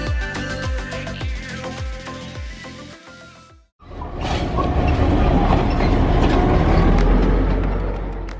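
A train rumbles along the rails in Sri Lanka with a rhythmic clickety-clack of wheels, a brief drop to near silence, then a loud, steady roar of the moving carriages.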